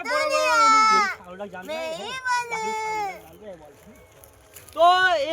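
A person imitates a goat's bleat with loud, wavering nasal bleats, one long call at the start, broken mid-length calls in the middle and another short bleat at the end, in a funny children's skit.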